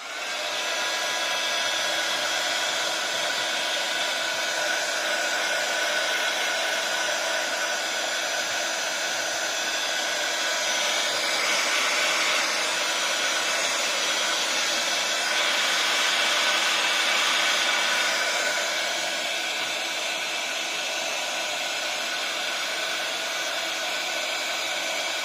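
A hair dryer runs steadily for about twenty-five seconds, drying structure paste spread on the back of a wooden box; a constant close airy blowing whine with no voices.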